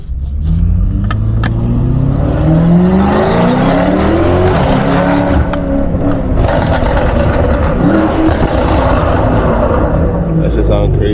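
A BMW M550i accelerates hard with its exhaust valve open in Sport Plus, a loud, close engine roar climbing in pitch through rising sweeps while someone talks over it.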